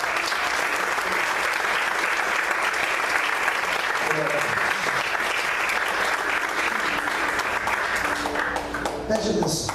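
Congregation at an evening church service applauding, a dense, steady wall of clapping sustained throughout at full loudness, with voices mixed in beneath it.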